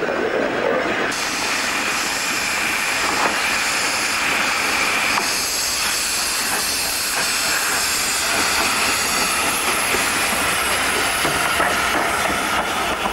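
A steam locomotive hauling a train in Western Australia gives off a constant loud hiss of steam over a rolling rumble of rail wagons, steady throughout with no voices.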